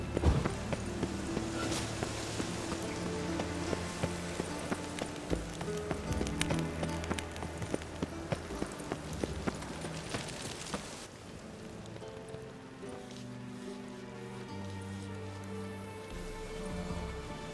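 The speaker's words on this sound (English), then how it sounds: "Rain, I like rain." Rain falling in the video game The Witcher 3: Wild Hunt, a steady patter under rhythmic horse hooves clip-clopping along, with game music layered over the continuous soft wash.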